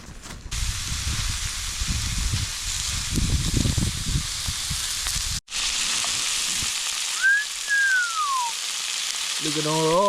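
Sausages sizzle in a pan over a rough campfire beside the Murray River, a loud, steady, close frying hiss that runs almost unbroken, with a short dropout midway and a thin whistling tone later on.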